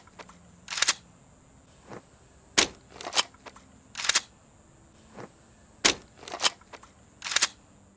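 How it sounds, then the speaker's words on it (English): A Call of Duty gun reload with a drum magazine swap gives a series of sharp mechanical clacks and snaps at uneven intervals, crisp and close, with a steady high whine underneath and no voices. "You pull out a new drum magazine, smack the old one out of the way with it."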